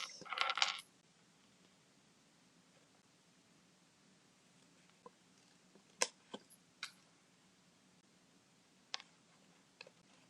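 Scissors snip paper during paper crafting: a handful of sharp, isolated cuts spaced across a quiet background, preceded by a brief rustling burst of paper handling.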